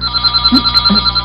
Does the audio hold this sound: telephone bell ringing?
yes